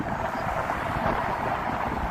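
Gusty wind roaring between the tall downtown buildings of Chicago's Loop near Michigan Avenue, a steady broadband rush buffeting the microphone continuously throughout, loud and close, with no talking.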